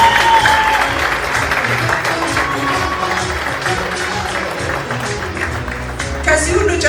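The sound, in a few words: studio audience applause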